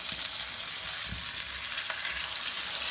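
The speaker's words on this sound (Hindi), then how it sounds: "देखिए 4 मिनट हो गए एक साइड से फ्राई होते हुए। अब हम इसकी साइड टर्न कर देंगे।" Chicken zinger fillet deep-frying in oil, giving a loud, dense, continuous hiss and sizzle with a few faint bubbling pops, close and alone without talk.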